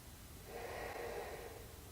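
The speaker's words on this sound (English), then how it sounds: "2 more full breaths here." Slow, deep breath drawn during a yoga flow, a soft airy swell that rises and fades over about two seconds, faint and close with low room rumble beneath it.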